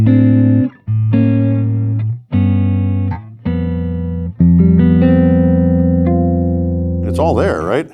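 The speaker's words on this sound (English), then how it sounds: "I thought that guitar through that amp sounded gorgeous." Jazzy electric guitar played through a PRS HDRX 20 amp rings out in full, sustained chords and single notes, loud and close, a few changes in a slow rhythm ending with a wavering, bending note.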